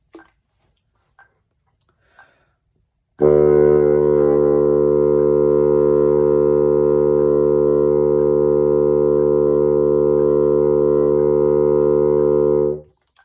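A bassoon sustains a single low D as a steady straight tone for about ten seconds, loud and close with rich harmonics, preceded by a few faint clicks and breaths.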